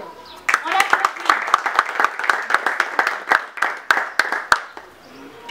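An audience claps for an announced officer at a French-language meeting, a modest round of distinct individual claps rising quickly and tapering off after about four seconds.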